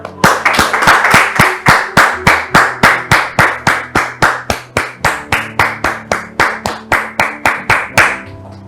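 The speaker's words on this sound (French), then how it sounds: "sous vos applaudissements" Rhythmic, steady clapping from a TV studio audience on a talk-show set, about two dozen loud, evenly spaced claps in unison with a faint hum beneath.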